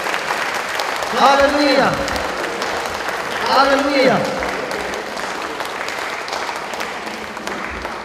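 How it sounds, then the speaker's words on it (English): A church congregation keeps up steady applause throughout, while a nearby voice calls out twice over the clapping, swelling briefly each time. "let's give the Lord a big hand"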